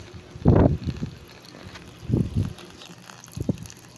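Gusts of wind buffet the microphone in three low, rumbling bursts over a hydroponic vegetable garden, with a faint rustle in the quieter gaps between them.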